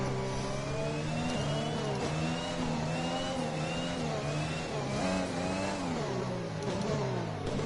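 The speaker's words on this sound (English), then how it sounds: "We need to keep the engine cool though, so don't go too high with the revs." A Formula 1 race car engine in a racing video game revs high and steadily, a whining, harmonic-rich drone that shifts up and down in pitch for the whole stretch, with no voices.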